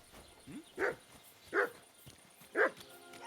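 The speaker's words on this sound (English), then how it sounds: "Who are you barking at, Tuggy?" A dog named Tuggy barks in Kingdom Come Deliverance, giving three sharp, fairly close barks about a second apart, with a faint yip before the first.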